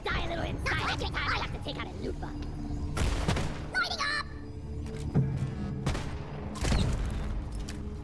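Sniper turrets fire in Deep Rock Galactic, loud sharp gunshot blasts with booming tails at irregular intervals, mixed with other game sounds and a player talking over them.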